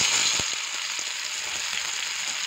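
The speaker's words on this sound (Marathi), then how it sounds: "ह्याच्यामध्ये मी आता टोमॅटो टाकणार आहे।" Tomatoes go into onions already fried red in oil in a pan for chicken biryani, giving a loud, steady hiss of sizzling with a few soft stirring scrapes.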